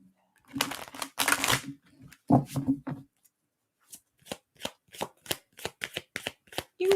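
Tarot cards are shuffled by hand at close range: a couple of longer riffling bursts, then a quick series of crisp, separate snaps and flicks in an uneven rhythm.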